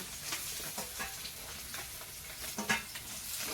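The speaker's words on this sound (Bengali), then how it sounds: "কড়াইতে তেল দিয়ে মাছ ভাজতে শুরু করে দিয়েছি প্রথমেই পুঁটি মাছগুলো ভেজে নিলাম" Small puti fish frying in oil in a wok: a steady, close sizzle with scattered crackles and pops throughout, no voices.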